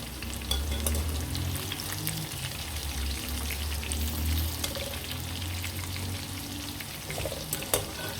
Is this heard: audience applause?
no